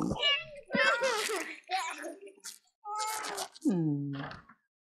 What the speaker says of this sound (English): You girls, stop tormenting that poor little kitty.